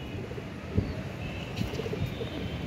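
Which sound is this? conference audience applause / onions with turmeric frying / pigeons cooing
pigeons cooing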